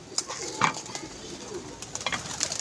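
Pigeons at a pigeon club cooing softly at close to mid distance, a few brief low coos amid light background noise and faint movement.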